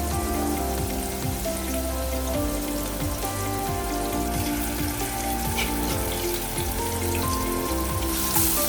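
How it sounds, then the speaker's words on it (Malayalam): Marinated prawns shallow frying in a pan hiss in a steady, dense sizzle that stays close and even throughout, with no talking. "നമുക്കിത് ഒരുപാട് അങ്ങ് ഡ്രൈ ഫ്രൈ ആവണ്ട, ഷാലോ ഫ്രൈ ആയാൽ മതി"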